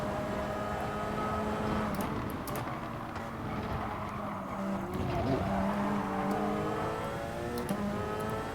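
Race cars in the GT Sport video game run side by side, their engines droning and revving loudly with shifting pitch and brief tyre squeals, heard without talk.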